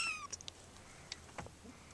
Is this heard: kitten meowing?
yes